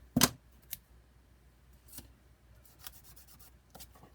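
Scissors snip paper for a small ephemera holder book, one sharp close cut followed by several fainter, spaced snips and light rustling in a quiet room.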